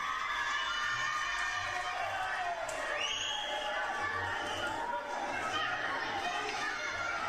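A crowd at a wrestling match fills the air with steady chatter, shouts and scattered whoops, an excited voice rising above the dense crowd noise partway through.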